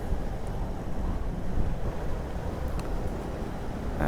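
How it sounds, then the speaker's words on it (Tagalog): Strong wind buffets the microphone in a steady, loud low roar while riding along a road on a trip from Makati to Cavite, with no other distinct sounds. "Malakas din yung hangin."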